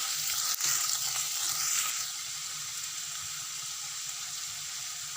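Sliced onions frying in hot oil in a pan for a methi malai paneer, a steady close sizzle that swells briefly then settles into an even crackle with no talking.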